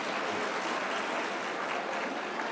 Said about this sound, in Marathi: अरे आता टाळ्या वाजवा ना, त्यांचं स्वागत आहे ना।